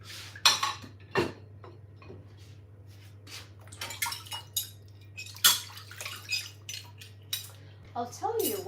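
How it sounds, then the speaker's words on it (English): Dishes, cutlery and pots clatter and clink as they are loaded into a dishwasher, with irregular bright knocks and scrapes over a low steady hum and a brief voice near the end. "So now let's put the dishes away into the dishwasher."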